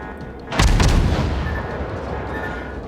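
Naval guns of the destroyer Gremyashchy fire in World of Warships, a single heavy salvo with a sharp boom at onset that rolls into a long, rumbling decay under continuing battle ambience.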